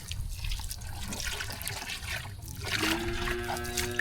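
Water trickles and splashes softly as it is poured for cattle to drink, a quiet, steady liquid sound with a few faint ringing tones toward the end.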